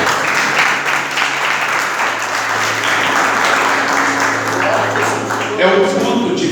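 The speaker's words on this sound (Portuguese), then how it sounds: "Você assenta, desocupa as tuas mãos e aplauda bem forte o Vigário." A church congregation at a family worship service claps loudly in a sustained, full wash of applause, with voices and a held musical tone running underneath.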